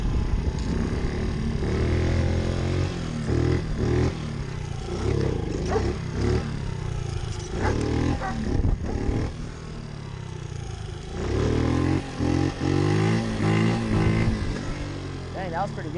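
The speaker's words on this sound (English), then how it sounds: "We're gonna go try to pull some wheelies." A pit bike's small motorcycle engine revs hard and roars in repeated surges as the rider attempts wheelies, loud and close throughout, rising and falling with throttle bursts.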